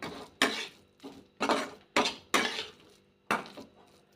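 A spoon stirring eggplant bharit with chopped coriander in a pan gives repeated scraping strokes, about seven sharp close scrapes and knocks with short silent gaps and no sizzle.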